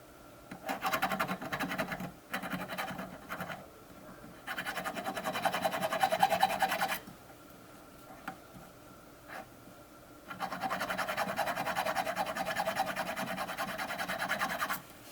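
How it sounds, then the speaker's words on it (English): Sanding a silver ring clean before soldering: bursts of close scratchy rubbing, about two to three seconds each, stopping briefly in between, with no voices. "Sand all around the area so it will be clean and free of grease, oils, dirt, lotion, liquids"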